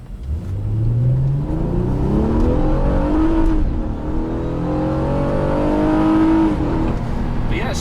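A 2014 Honda Accord V6 with a Ktuned setup accelerates hard, its engine note climbing through two rising pulls with a shift between, loud and close from inside the cabin.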